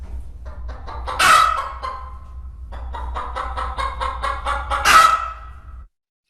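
A chicken gives an alarm call: a series of sharp, repeated clucks punctuated by two loud, harsh squawks, close and alone.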